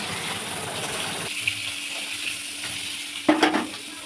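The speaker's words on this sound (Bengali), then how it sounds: "এরপরে আমি ভেজে নেব বেগুনগুলোও দেখো লাল লাল করে ভাজতে হবে।" Eggplant frying in oil in a wok, a steady sizzle throughout with a brief louder crackle and stir near the end.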